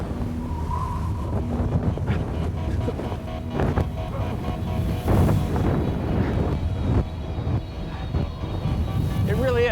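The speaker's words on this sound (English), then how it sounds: "It's so unbelievably windy right now." Strong, gusty wind on a mountain in Iceland roars and buffets the microphone loudly throughout, rising and falling in blasts.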